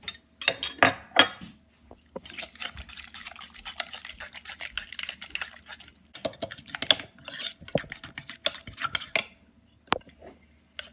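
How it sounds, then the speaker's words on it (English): Beaten eggs are mixed into mashed sweet potatoes in a bowl for paleo sweet potato cakes. Irregular scraping and tapping clinks of a utensil against the bowl come in quick bursts with short pauses, fairly close and moderately quiet. "now I'm going to combine my eggs with my sweet potatoes"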